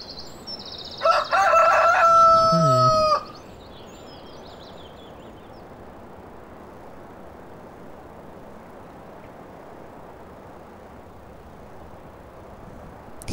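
A single loud rooster crow rings out in the Farming Simulator 2013 game, sustained for about two seconds over a steady bed of ambient farm noise that carries on alone afterward.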